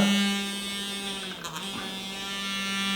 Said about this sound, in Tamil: இதுதான் வந்து ஆன் பண்ணுறதுக்கான பட்டன். பார்த்தீங்கன்னா சத்தம் கேட்குதா?